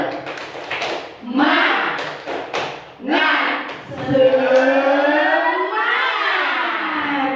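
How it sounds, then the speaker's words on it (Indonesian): Teachers and students at an elementary school join in a rhythmic spirit-clap routine, sharp group claps in patterned bursts mixed with chanted shouts and voices. "Oke. Tepuk semangat."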